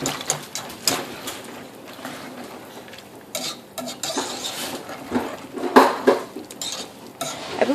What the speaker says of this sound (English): I'm just going to whisk that in.